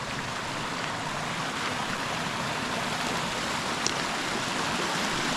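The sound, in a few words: water flowing in a normally dry creek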